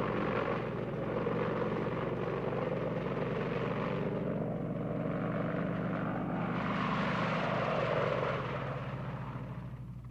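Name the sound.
Apache attack helicopters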